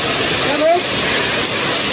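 Steady, loud roar of rushing water at the base of Salvapet waterfall in Udayagiri, a broad continuous wash with a brief faint tone rising briefly partway through.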